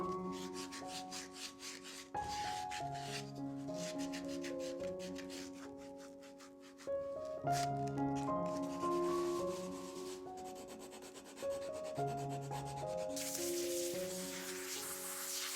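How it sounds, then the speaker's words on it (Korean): Cypress wood being sanded by hand, heard as repeated rough rubbing strokes close by, partly under a melodic music track. "그럴 땐 샌딩으로 마무리해야 합니다."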